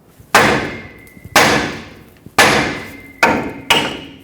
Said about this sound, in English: I'm gonna hammer the knuckle to try to break this free and then hammer the stud upwards